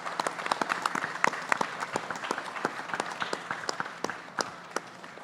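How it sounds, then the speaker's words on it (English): A crowd at a boxing press conference claps in distinct, uneven bursts, individual sharp claps standing out over a lighter background patter that eases slightly toward the end. "Big round of applause"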